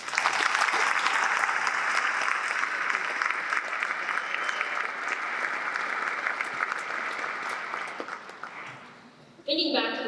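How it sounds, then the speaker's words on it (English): Sustained applause from a large audience at a university commencement ceremony for the graduates, a dense, even roar of clapping that fades near the end before a voice starts speaking. "Let's give all the graduates a round of applause."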